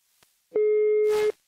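A single steady electronic telephone tone sounds for under a second, clear and close, with a faint click before it and a brief burst of noise at its end, as a prank call is placed.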